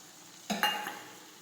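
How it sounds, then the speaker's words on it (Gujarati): Cauliflower and potato curry sautéing in a pan, with one brief scrape and stir breaking a low steady sizzle. Close, short and clear, with no talking. "થોડી વાર આપણે સાતળશું"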